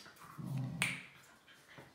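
Several pet dogs whimper and whine indoors, a soft nasal whine followed by a sharp yip, fairly close but quiet, with no talking.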